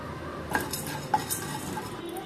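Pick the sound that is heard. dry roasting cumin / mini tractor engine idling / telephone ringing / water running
dry roasting cumin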